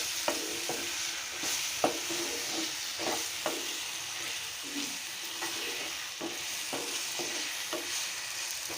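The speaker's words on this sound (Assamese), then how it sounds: "গুড়খিনি দি অকণমান লৰাই থাকিম।" A spoon stirs jaggery into sweet mango chutney in a pan, with a soft steady sizzle and irregular scraping clicks against the pan, close by and moderately quiet.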